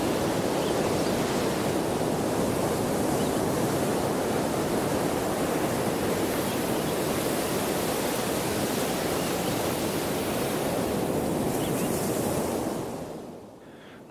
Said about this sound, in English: The waves were coming in very calmly.